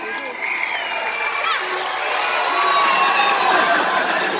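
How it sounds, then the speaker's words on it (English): A crowd cheers and shouts steadily at a live dog agility show at the CNE 2019 as a competing dog runs the course, loud and continuous throughout. "Let's cheer on Brienne of Tarth"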